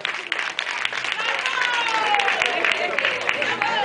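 At an evening wedding celebration, guests applaud the newlywed couple with a dense burst of clapping that swells and holds, while an announcer's voice carries on over it.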